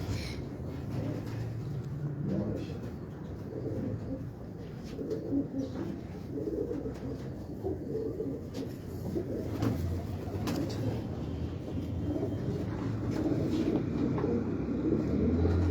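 Pigeons cooing steadily at close range, their soft low calls repeating throughout amid a busy background hum, with faint voices in the surroundings.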